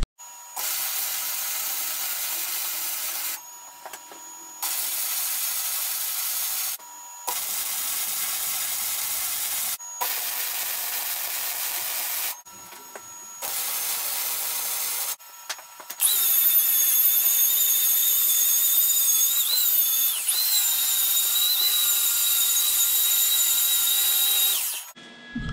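Steel being MIG welded along the front of a Jeep JK rear bumper: bursts of steady crackling hiss in several runs separated by short pauses, then one longer, louder continuous stretch, close up with no talking.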